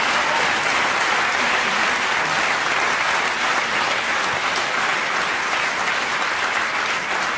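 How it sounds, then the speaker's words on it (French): A theatre audience applauds loudly and continuously during a literary reading on stage, a dense, even roar of many hands clapping that holds for over seven seconds with no voices on top. "Applaudissez-le."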